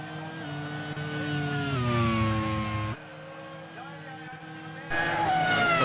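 Race car in a racing video game's Rockingham Grand Prix speeding past with a steady high engine whine that shifts pitch, a faint commentator voice underneath.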